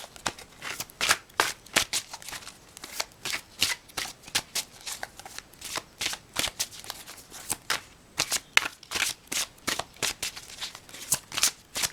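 Tarot cards being shuffled by hand, a steady run of crisp riffling bursts and soft flutters repeating close up for the whole stretch, with no talk over them.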